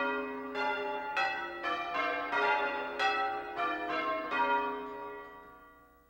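Church bells ring changes in an Anglican tower, with a sequence of clear, resonant strikes following one another at a steady pace. Each tone overlaps the lingering hum of the last, then the sound fades.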